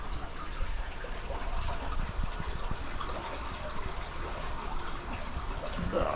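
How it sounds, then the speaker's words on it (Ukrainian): Steady running water trickles and splashes continuously, fairly close, with no voices over it. "Чуєте звук води?"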